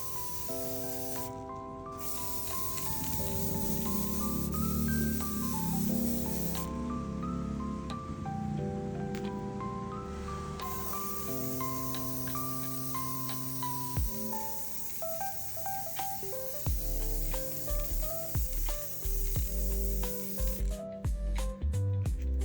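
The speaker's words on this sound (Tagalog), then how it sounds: "Ang ganda pala ng spray paint na to. 153 Yamaha Green." Nico Spray 153 Yamaha Green spray paint hisses steadily onto toy cars in a custom Hot Wheels project, a continuous airy spray with short pauses, heard under louder background music.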